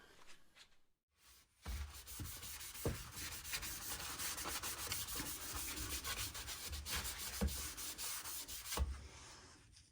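Wax is rubbed onto a new drill press table, making a steady, close scrubbing sound that runs continuously for several seconds with rhythmic back-and-forth strokes and no talking.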